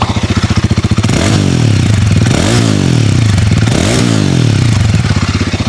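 A Royal Enfield Guerrilla 450 Apex motorcycle idles with a loud, close, thumping exhaust pulse, then revs up repeatedly in rising and falling surges of engine roar.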